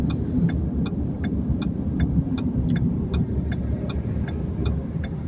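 Car engines hum and rumble steadily on a steep mountain road where vehicles make a U-turn on an uphill stretch, with a regular ticking pulse, likely a turn indicator, repeating throughout.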